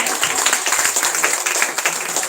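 An audience at the inaugural ceremony of a national conference claps together, producing a dense, steady patter of overlapping hand claps that holds evenly for a couple of seconds.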